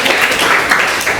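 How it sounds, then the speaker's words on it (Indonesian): Students applauding in a classroom, a steady wash of many hands clapping together for just over a second, close and fairly loud with no talk over it. "Beri tepuk tangan dulu tahu temannya."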